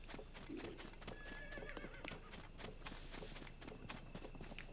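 A horse in Zelda: Tears of the Kingdom gallops across Hyrule Field in quick, rhythmic hoofbeats and lets out a whinny, set against ambient game sound, faintly mixed.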